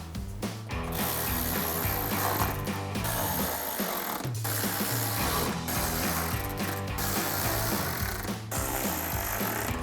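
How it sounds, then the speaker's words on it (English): A ratchet clicks in rapid, repeated strokes as 7mm bolts are driven in to secure the headlight of a 2016-2018 Camaro, with short pauses between runs of loud, close clicking. "Now we're going to reinstall all of our screws going across the top and our 2 push clips."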